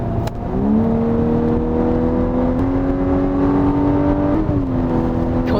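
A Volkswagen Atlas R-Line with a 2.0 petrol engine accelerates in sport mode from inside the cabin, its steady droning engine note rising with brief dips at gear changes and a continuous road rumble beneath.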